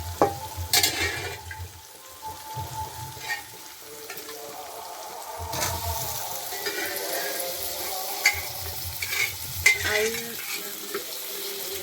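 Boiled potatoes sizzle in hot spiced oil in a pan while being stirred, with a steady crackling fry, spatula scrapes and occasional clinks close by.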